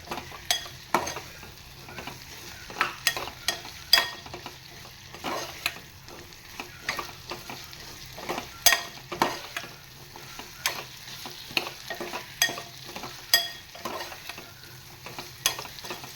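Elephant foot yam (suran) pieces frying in oil over raised heat for suran bhaji, with repeated sharp scraping stir strokes over a soft sizzle, steady and close throughout.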